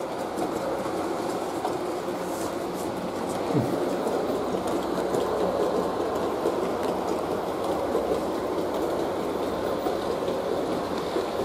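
A vintage Trix Express model train runs steadily, a close, continuous mechanical whir and rhythmic rattle of old rolling stock with no talk.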